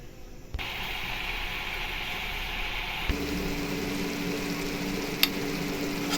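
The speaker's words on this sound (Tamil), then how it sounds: "போட்டுட்டு நல்லா ஃப்ரை பண்ணிடுங்க கொஞ்ச நேரம் சிக்கனை வேக விடணும்" Chicken frying in oil in a pan with curry leaves and coriander, giving a steady hiss and sizzle that holds throughout, with a faint low hum beneath and one brief clink near the end.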